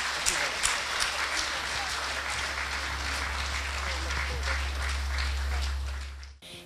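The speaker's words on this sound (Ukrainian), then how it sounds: "я просив би, щоб ви ще раз оплесками підтримали переможців наших" An audience applauds the winners at a school awards event, a dense, steady wash of many hands clapping that holds for several seconds before breaking off abruptly, with a low hum underneath.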